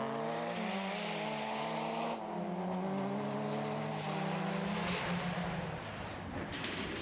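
A 1989 Vauxhall Astra GTE and a Mazda 323 race a Scottish Rally Championship forest stage, engines roaring loudly in close pursuit, their pitch climbing and dropping through gear changes, with no voices.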